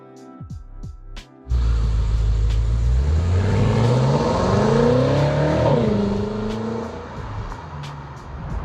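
A 2012 BMW M5 F10 with the 4.4 engine fires up after a few faint clicks, then revs loud and close in rising and falling sweeps before settling toward idle, with no talking.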